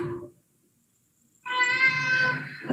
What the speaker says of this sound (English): My cat wants to talk to all of you today.